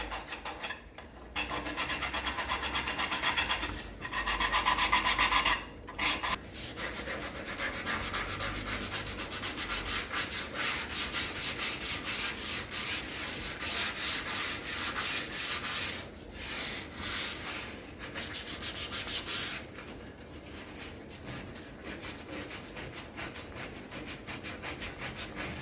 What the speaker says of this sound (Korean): 이 220 사포를 가지고 테두리를 먼저 이렇게 부드럽게 결 따라서 부드럽게